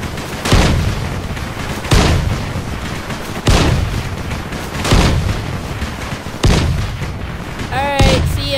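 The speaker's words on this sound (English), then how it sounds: "It's fireworks." Fireworks go off in the video game Dying Light as a series of loud, booming bursts about every one to one and a half seconds, each followed by a crackling tail, with a whistling rise near the end.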